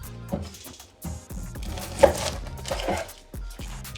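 Knife blade chopping onions in half on a cutting board while making chicken wing stock, a few sharp separate thunks spaced across the moment, up close and fairly loud.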